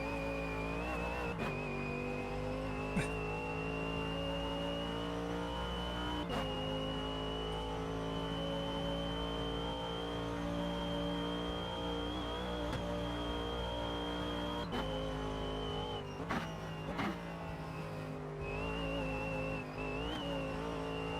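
A race car engine in Automobilista 2 during an IMSA sports car race on badly worn tyres holds a steady, high-pitched drone close up, with brief throttle lifts and pickups through the corners and no talking.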